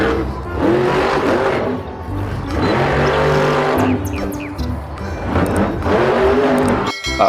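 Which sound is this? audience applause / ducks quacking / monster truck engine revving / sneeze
monster truck engine revving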